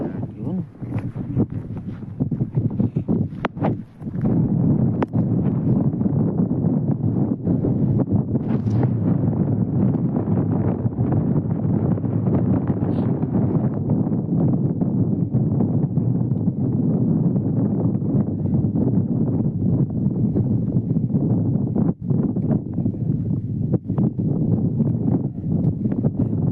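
Steady wind buffets a fishing boat out at sea in cold, gusty weather, a broad continuous rush with a few brief knocks and rustles near the start.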